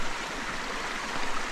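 Water rushes steadily in a forest stream on a hiking trail in Shenandoah National Park, a close, even broadband flow with no voices.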